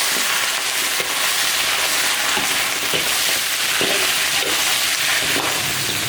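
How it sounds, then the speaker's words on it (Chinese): Oxtail stir-fries in caramelized sugar and oil in an iron wok over a wood-fired stove, a loud, steady close sizzle with crackling bursts and occasional stirring scrapes, no voices. "把牛排骨稍微再煸炒一下"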